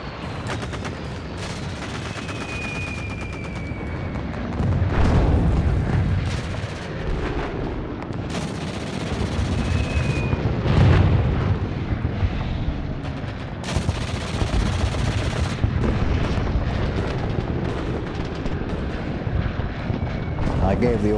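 Heavy gunfire from German MG42 machine guns defending a D-Day coastal artillery battery at Merville, sustained rattling bursts and booming explosions through a dense battlefield din, loud and close.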